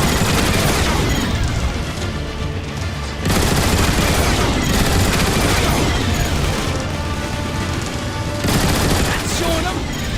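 Autobot gun emplacement turrets fire on Decepticon Seeker jets in Transformers: War for Cybertron, a loud, dense, continuous barrage of rapid shots and blasts mixed with game music and effects, with no letup.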